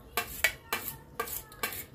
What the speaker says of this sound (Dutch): Dus nu ben ik die agar-agar aan het snijden.